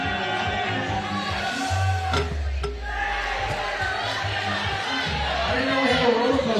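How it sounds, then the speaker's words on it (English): Crowd noise from spectators at a FIBA 3x3 Asia Cup basketball game as a player stands at the free throw line, a loud, continuous roar of jeering and shouting voices with low rumbling swells throughout. "the crowd is letting her hear it"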